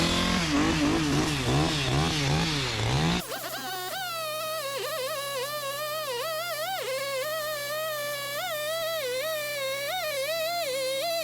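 Chainsaw trimming a massive log to length for a sawmill, a loud close engine that whines under load for a few seconds, then drops to a steady wavering idle.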